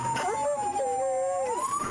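A police K9 dog during a foot chase gives a drawn-out, loud howling whine that slides down and then back up in pitch over about two seconds.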